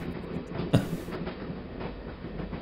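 A train runs on rails in Baphomets Fluch, a steady rumbling rattle with periodic clacks and one sharper knock, heard from inside the carriage.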